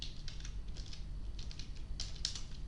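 Keys tapped on a computer keyboard in short soft clusters, quiet and close, with a low steady hum underneath and no voices.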